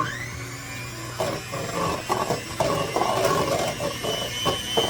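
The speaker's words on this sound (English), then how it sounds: "So now I'm going to stir this up a little bit with my mixer just to make sure it's good." An electric hand mixer whirs steadily while stirring banana pudding in a bowl, with a mechanical buzz and intermittent rattling clatter of the beaters against the bowl, close and fairly loud throughout.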